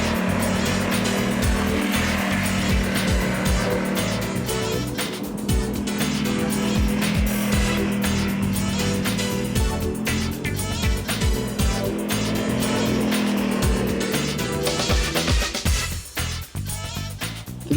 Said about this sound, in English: we've just picked up this Ducati Multistrada 1200 Enduro from Ducati South Africa